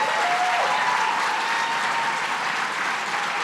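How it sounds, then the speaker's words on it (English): Dense, loud applause fills a gala dinner hall, a large crowd clapping continuously, with a faint whistle or cheer briefly rising above it. "Give them a round of applause, please."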